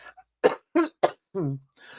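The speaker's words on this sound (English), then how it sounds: "I've got a cough." A run of short, sharp coughs, close up, ending in a brief voiced throat sound.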